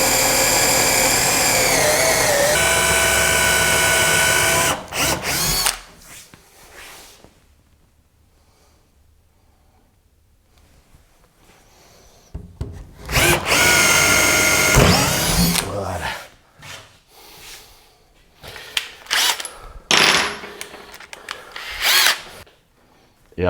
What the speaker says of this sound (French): Alors je commence par percer les quatre coins.